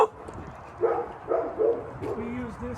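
Dogs at an animal shelter's outdoor area give several short, moderately distant barks and whimpers over a busy background, with a voice talking intermittently.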